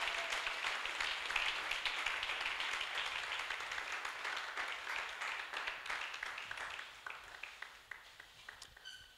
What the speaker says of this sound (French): Donne une puissante offrande d'acclamation à Jésus